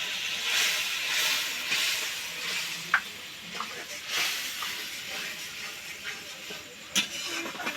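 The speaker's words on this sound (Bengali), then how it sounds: "এখন অল্প করে একটু জল দিয়ে দিচ্ছি।" Steady sizzling hiss as a little water goes into a pan of spice paste being cooked down for a prawn malai curry with coconut milk, with occasional small pops and crackles through the hiss and no talking.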